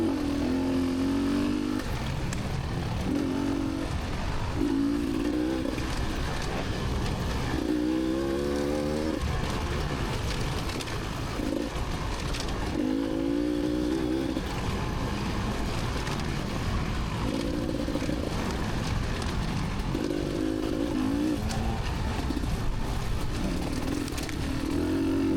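Several motorcycles at a Richmond motorcycle race rev and surge past one after another, engines rising and falling in pitch at close range with a steady, loud roar throughout.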